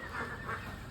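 Ducks on a duck farm in Bangladesh give a couple of faint, quick honking quacks over a steady background of flock noise, heard at a distance.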